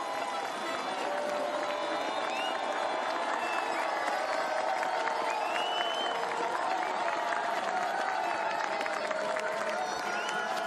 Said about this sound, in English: Generous applause for Tiril Eckhoff as she works her way round